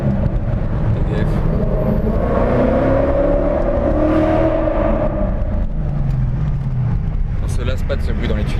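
An 825-horsepower Sutton Mustang roars inside a tunnel, its engine note droning loud and steady with reverberant rumble throughout, swelling slightly as it revs, then easing toward the end.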